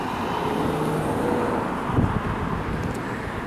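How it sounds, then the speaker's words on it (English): Cars passing on a busy road, a continuous loud wash of traffic noise with a passing vehicle swelling briefly midway. "Man, sometimes I think I live along a busy highway."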